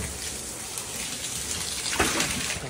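Water gushes and splashes steadily into a small swimming pool, a continuous broadband rush with a brief louder surge near the end, no talking over it.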